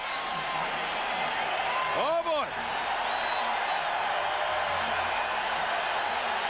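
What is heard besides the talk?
crowd cheering at Eden Park as the Kiwis come out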